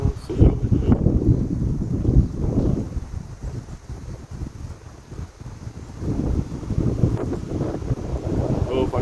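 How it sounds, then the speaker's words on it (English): Gusts of wind buffet the microphone outdoors at a shooting range, a loud, rumbling roar that swells, eases in the middle and then builds again. "It ain't really a breeze, it's a gust."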